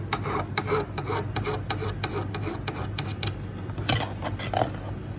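A hand file rasps in quick, rhythmic back-and-forth strokes, removing excess solder from a metal wedding band at close range, with a slightly louder scrape near the end.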